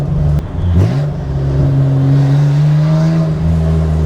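A Nissan Skyline R34 GT-R with a muffler delete pulls away and accelerates, its loud, raspy exhaust drone climbing steadily in pitch, recorded close with no talking.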